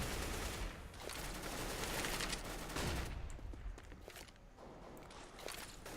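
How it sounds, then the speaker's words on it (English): Bursts of automatic gunfire crackle through a Counter-Strike match on the Cobble map as a player blind-fires through smoke, rapid shots layered over footsteps and game ambience, dense at first and thinning toward the end. "NBK tossing that smoke in a drop, just blind firing through it, trying to keep anyone from pushing forward"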